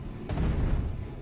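A single low, rumbling blast from the video game Super Inefficient Golf, a short muffled boom that holds for about a second and then fades.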